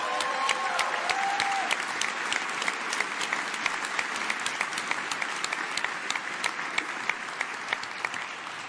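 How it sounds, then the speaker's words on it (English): Audience applause at a CES keynote, a large crowd clapping steadily and loudly throughout, with a brief tonal sound near the start. "So let's give them a big round of applause."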